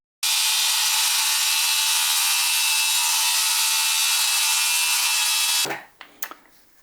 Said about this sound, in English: Circular saw. These are very handy.